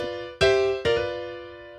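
Blues piano riff in G in a lesson: two bright struck chords in quick succession, the second left ringing and slowly fading, entering over the tail of a prior sustained chord, with no voices.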